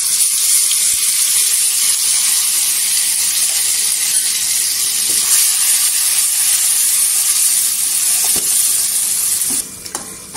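Ground peanut and coconut masala paste sizzles and fries steadily in hot oil with cumin, a loud continuous hiss with occasional stirring scrapes throughout.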